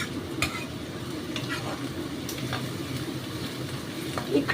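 Mutton tarka being stirred in a pan, a steady scraping and low sizzle with a few sharper clinks of the spoon against the metal, close and continuous throughout.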